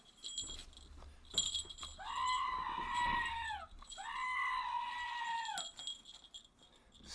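A recorded goat screams twice in long, wavering bleats, each lasting over a second, played loudly over a live Redblacks vs Blue Bombers CFL football stream with no talking.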